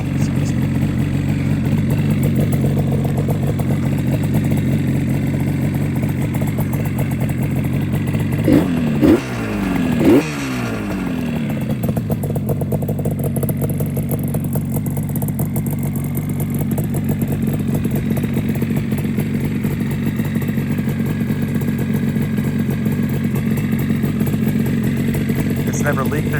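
A fully restored 1976 Yamaha RD400 two-stroke motorcycle running close by: steady buzzing idle throughout, a few sharp throttle blips and revs in the middle, some clatter, with someone talking over it.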